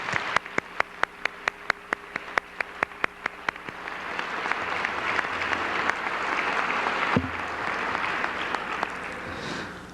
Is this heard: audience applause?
yes